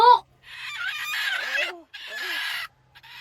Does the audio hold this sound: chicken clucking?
yes